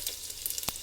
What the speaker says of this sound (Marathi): आता आपण त्याच्यात जिरे, मोहरी आणि लसूण आणि कांद्याची फोडणी देणार आहोत.